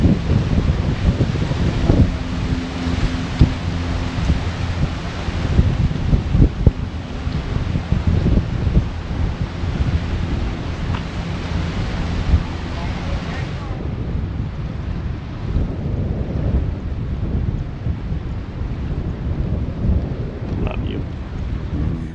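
Strong wind on Sunset Island buffets the microphone in a continuous loud roar with gusty thumps and rumbles, no voices, easing slightly partway through.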